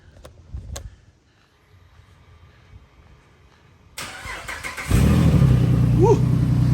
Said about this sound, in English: So we're going to move the Jeep first